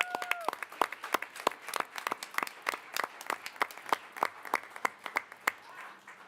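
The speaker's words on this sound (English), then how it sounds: "nice round of applause" Small board meeting audience giving a round of applause to Arrowhead Middle School staff, sparse, distinct individual claps from a modest group, fairly quiet and irregular, with a brief tone at the start.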